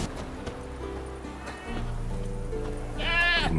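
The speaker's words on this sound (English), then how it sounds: "there is the goat" A goat bleats near the end of a short game scene in The Witcher 3, a strained wavering cry rising over a steady background of low ambient music and game sound.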